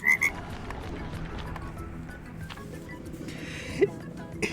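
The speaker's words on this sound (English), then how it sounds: "now my escape key is just a red button that that plays frog noises" A novelty red button used as an escape key plays frog croaks, a short warbling pair at the start and another brief croak later, over a steady murmur of background noise.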